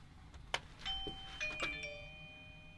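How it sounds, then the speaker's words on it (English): A Eufy battery-powered video doorbell rings indoors with a clear electronic chime of several bright tones, preceded by a soft press click, fairly quiet and alone. "let me show you what happens when someone rings your doorbell with one of these guys right here"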